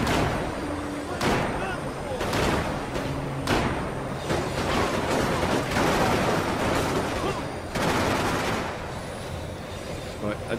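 Bursts of machine gun fire in the video game Max Payne 3, loud rapid volleys separated by brief pauses, with someone talking over the shooting.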